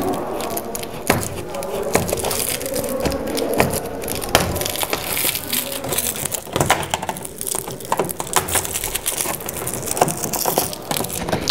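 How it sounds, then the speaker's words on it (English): A large screwdriver pries and scrapes against a metal rivet on a Leon Paul FIE fencing mask, making repeated close, sharp cracks and grinding scrapes. "Then we use the large screwdriver again, just to peel away the metal"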